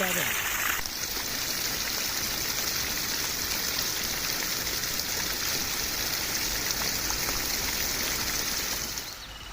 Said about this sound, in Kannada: ನಾವು ಹಳ್ಳದಿಂದ ನೀರು ಹೊಡ್ಕೊಂಡಿದ್ದೀವಿ